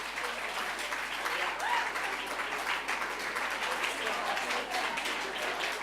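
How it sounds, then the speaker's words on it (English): A conference audience claps steadily and fairly faintly, a continuous even patter heard from a distance, with a murmur of voices mixed in. "please stand up and let's clap for our women"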